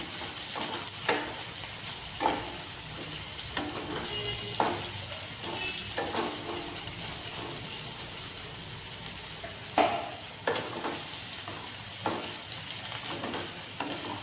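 Snake gourd and potatoes sizzle steadily in a pan for a poppy-seed dish, with repeated clicks and scrapes of a spatula stirring at irregular intervals. Close and continuous, with no talking.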